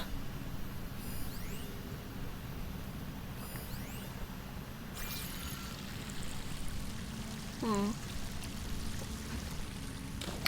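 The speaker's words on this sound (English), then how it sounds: "That waterfall must be coming from somewhere." A waterfall in the video game Horizon Forbidden West gives a steady, continuous rush of falling water. A few brief whooshing game tones pass over it.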